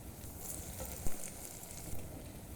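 Onion sofrito for a Valencian paella frying steadily in a pan, a soft, even sizzle throughout with a couple of brief louder crackles and no voices.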